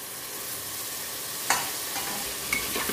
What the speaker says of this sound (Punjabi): ਟਮਾਟਰ ਵੀ ਭੁੰਨ ਹੋ ਗਿਆ ਵਾ, ਤੇਲ ਇਹਨੇ ਛੱਡ ਦਿੱਤਾ ਵਾ